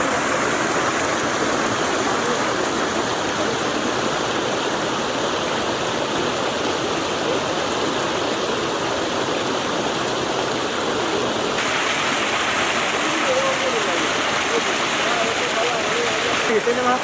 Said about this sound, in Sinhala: දිට්වාවෙනුත් මට්ටු නො වූ අරුම පුදුම ජල උල්පත.